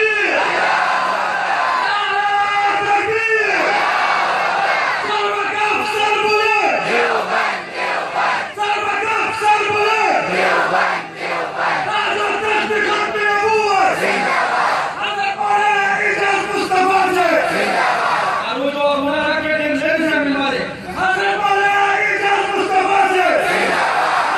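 A large crowd at a Khatm-e-Nabuwwat conference roars back in unison to the Nara-e-Takbir call, loud chanted shouts rising in repeated waves about every three seconds, continuing without a break.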